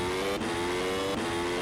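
Race car engine in sim racing on a Spain circuit, held at high steady revs with tonal harmonics, briefly dipping twice for quick gear changes, loud and close.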